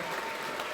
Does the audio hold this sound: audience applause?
yes